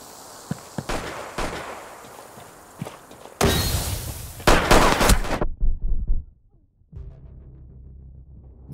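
Gunfire in the Rainbow Six Siege Western event: quieter shuffling and scattered pops build into a dense, loud volley of shots, which ends abruptly in silence before a low rumble returns.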